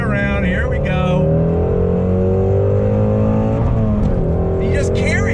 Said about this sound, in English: Here we go, on throttle, second gear, on the brakes.